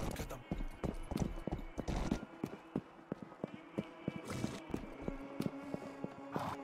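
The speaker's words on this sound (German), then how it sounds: "So, da haben wir unseren Pferd." Horse hooves clip-clop at a steady trot in the Rustler video game, crisp and fairly close, with someone talking in German over them.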